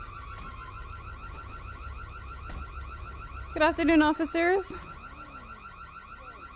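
A car alarm in the video game GTA wails in a loud burst of rising and falling tones partway through. A person talks before and after it.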